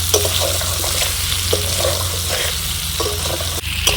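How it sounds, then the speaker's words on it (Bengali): Raw mango pieces fry in oil with a steady, loud sizzling hiss throughout, broken by faint soft stirring scrapes. "সুন্দর করে আমগুলো তেলের মধ্যে ভেজে নিলাম"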